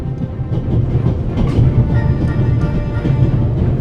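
A train in The Raven: Remastered rumbles along the rails with a steady low roar and faint rhythmic clatter, loud and continuous.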